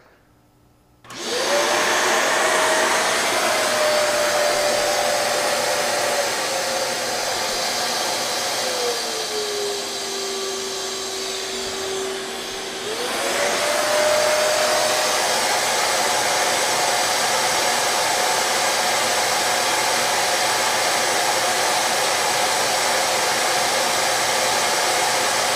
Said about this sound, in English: How about a vacuum cleaner?